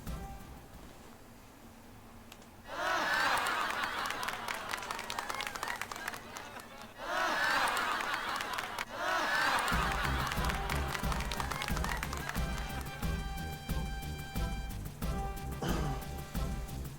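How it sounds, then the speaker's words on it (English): Applause from an on-stage audience in the PlayStation RPG Legend of Legaia, rising in two swelling bursts of dense clapping and then running into game music with steady tones. "The audience has never applauded this much."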